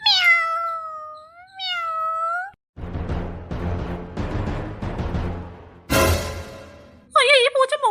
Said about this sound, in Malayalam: ഇത് അപ്പുറത്തെ വീട്ടിലെ ആ അമ്മൂമ്മയുടെ കരിമ്പൂച്ചയല്ലയോ